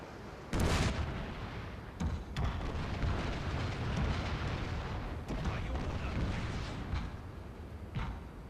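Ship cannons fire in Total War: Shogun 2 Fall of the Samurai during a naval fight. Several heavy booming shots go off over a constant dull rumble of battle, some sharp and close, others softer and overlapping.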